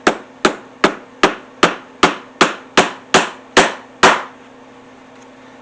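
A hammer drives a tack into a leather strap tool holder with eleven sharp, evenly spaced taps at close range, followed by a moment of quiet.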